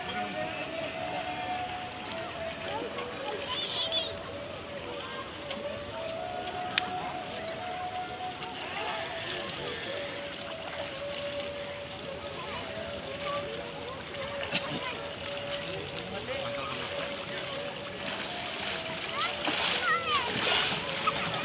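People bathe and splash in the river at Triveni Ghat in Rishikesh, with repeated water splashes and sloshing over a steady rushing flow while adults and children talk and call out nearby.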